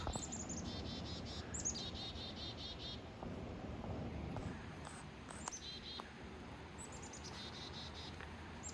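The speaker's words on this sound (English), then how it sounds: "Lots of little birds." Small birds chirp repeatedly around a birdhouse in a park, bright overlapping tweets in quick bursts over a soft outdoor background, fairly near and moderately loud.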